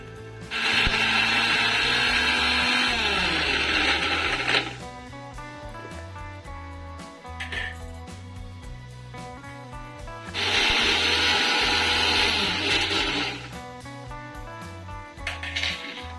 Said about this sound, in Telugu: మిక్సీ చేసుకున్నాం ఇప్పుడు